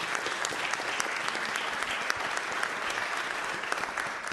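Sustained applause from a room of people at a San Francisco Board of Supervisors meeting, honoring supervisors' families; steady dense clapping throughout with no talk over it.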